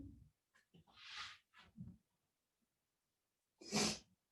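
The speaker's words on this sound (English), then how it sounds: "Bless you." A single sharp, loud sneeze bursts out near the end, after several quieter breathy sounds, during an indoor art class.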